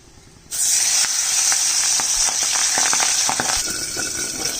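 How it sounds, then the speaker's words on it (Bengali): Pabda fish, salted and coated with turmeric, frying in hot oil: a sudden loud hiss as it goes into the pan, then steady sizzling with scattered pops and crackles, close up. "মাছটা এখন ভেজে নিচ্ছি।"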